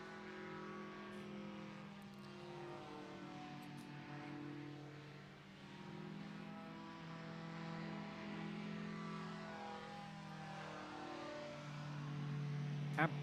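A paramotor engine at full throttle during a slalom championship run drones steadily with a buzzing, slightly wavering tone that rises gradually, heard at a distance and fairly faint.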